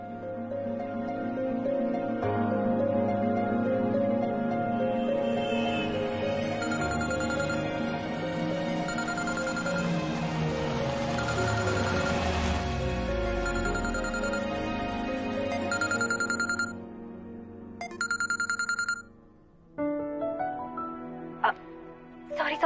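A phone rings with an incoming video call, playing a melodic ringtone that repeats for many seconds before breaking off, with brief pauses near the end.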